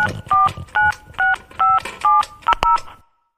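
A phone number being keyed in: seven crisp, evenly spaced touch-tone beeps, close and loud, followed by silence.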